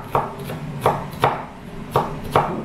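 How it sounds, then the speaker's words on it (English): A knife chops a jalapeno finely on a cutting board during kofta meatball prep, with about six crisp, evenly spaced strokes and no talking. "She wants me to chop it really fine."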